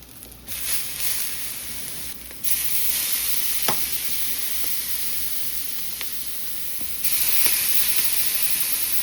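Extra fat hissing in a hot pan as meat fries, a steady close sizzle with a few soft clicks and bursts of louder spitting, no voices.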